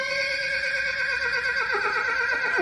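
A horse whinnies loudly and close by, a long wavering neigh that rises and falls for nearly three seconds with no other sounds around it.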